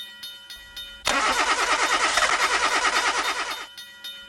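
A car engine stalling on railway tracks cranks and catches with a loud rough roar that pulses unevenly, then dies away abruptly after a few seconds, leaving quiet clicking.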